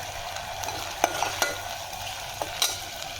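Gravy with ginger garlic paste and salt fries in a pan for a paneer dish, a soft, steady sizzle broken by a few sharp spoon clinks and scrapes nearby.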